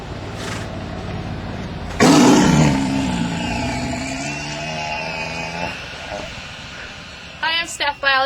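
A white tiger at a big-cat refuge lets out a loud, rough roar that swells abruptly and fades over several seconds, with voices talking around it.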